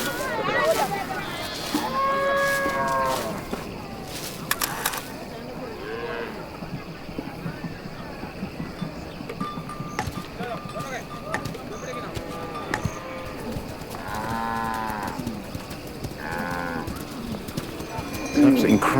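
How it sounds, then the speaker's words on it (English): A herd of Mundari cattle returning to camp at dusk in Africa lows repeatedly, with deep drawn-out moos overlapping from several animals at moderate distance over a constant murmur of ambient activity. "all the cattle, the lowing cattle coming back at dusk"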